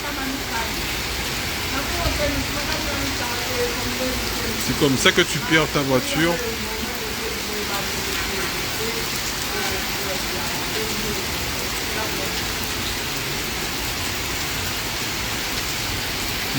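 Heavy rain pours steadily during flooding on a road, a dense continuous hiss throughout, with people talking over it and a brief burst of louder splashing near the middle.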